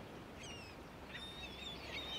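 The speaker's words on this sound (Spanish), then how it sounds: "Las gaviotas." Seagulls call faintly in the distance over soft city ambience in Istanbul, giving a few thin, drawn-out cries.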